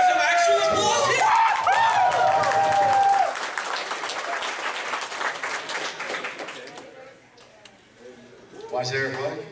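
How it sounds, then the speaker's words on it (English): Audience applause at a retro video game convention panel, a loud crowd clapping over lively talk that breaks off after about three seconds, then quieter chatter and scattered voices with a brief return of clapping at the end. "Can I get some actual applause here?"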